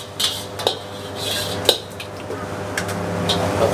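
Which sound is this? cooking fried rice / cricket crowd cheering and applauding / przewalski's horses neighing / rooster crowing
cooking fried rice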